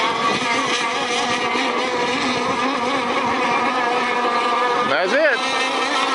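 A T-class racing motorboat engine roars loud and steady during a masters race, its pitch sweeping up and back down near the end, while someone speaks briefly over it.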